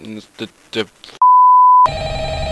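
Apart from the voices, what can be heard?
telephone ringing in Five Nights at Freddy's video game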